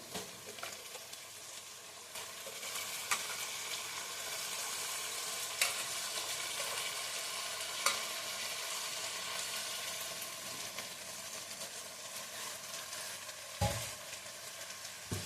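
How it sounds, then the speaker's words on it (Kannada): Eggplant pieces fry in a hot pan for vangi bath, giving a steady dense sizzle with scattered scraping clicks from stirring, close and continuous without talk. "ಈಗ ಬದನೆಕಾಯಿ ಹಾಕೊಂಬಿಡೋಣ"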